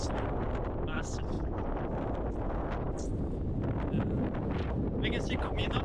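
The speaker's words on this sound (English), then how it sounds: "It's blowing like crazy. Can you hear the wind? Because I can. That wind is massive." Strong, gusty wind buffets the microphone at a coral lagoon on Malta's northern coast, a constant loud roar with rustling bursts throughout.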